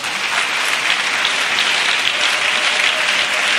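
A church congregation at a French-language worship service claps for Jesus Christ in loud, sustained applause, a dense steady patter of many hands filling the room without a break.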